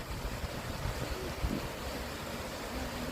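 A waterfall in the grizzly bear enclosure at Lincoln Park Zoo gives a steady broad rushing roar, heard from a distance through wind buffeting on the microphone.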